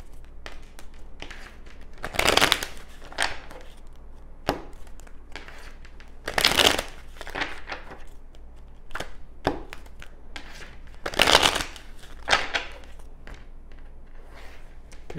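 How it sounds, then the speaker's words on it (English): Tarot cards are shuffled in several crisp riffling bursts, each a quick rush of flicking paper separated by quieter handling and soft taps. "Shuffle three times."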